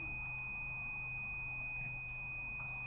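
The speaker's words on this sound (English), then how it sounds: "can you hear the beep?" A Vanos reset tool fitted to an engine's Vanos sprocket emits a steady electronic beep, a thin continuous high tone that holds unbroken and fairly faint throughout.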